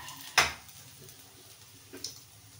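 Soyabeans stirred and fried in a pan, with one sharp clatter of a utensil against the pan and a second lighter scrape later over a low, steady background.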